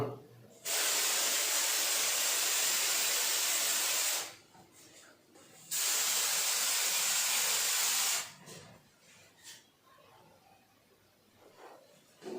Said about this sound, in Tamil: இதுல நம்ம ஸ்ப்ரே அடிச்சுட்டு மறுபடியும் வால்லையும் நம்ம ஸ்ப்ரே அடிச்சு பார்ப்போம்